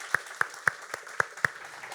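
Church congregation clapping in a slow, even rhythm, about six distinct claps spaced evenly, fairly faint and sparse as if only some people join in.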